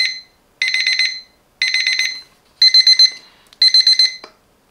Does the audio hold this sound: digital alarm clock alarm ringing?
yes